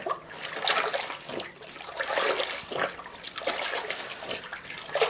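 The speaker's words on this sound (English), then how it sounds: "And I will wash out the mop between the 2 rounds." Water sloshing and splashing in a bucket as a mop is rinsed out between floor-mopping passes with citrus Pine Glo cleaner, in repeated swishing surges of moderate loudness, with no talking.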